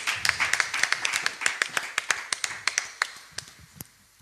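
A church congregation claps in steady, rhythmic unison, with sharp close hand claps repeating at an even pace for several seconds before trailing off.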